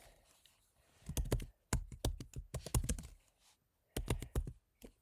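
Close, crisp keystrokes on a computer keyboard come in quick clusters of taps with short gaps between bursts, the clicks sharp and distinct with no talking over them.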